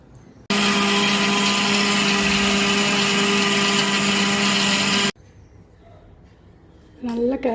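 Mixer grinder whirring at full speed as it grinds idly podi ingredients, a loud steady roar for about five seconds that cuts off abruptly, followed by quiet room sound and a voice speaking.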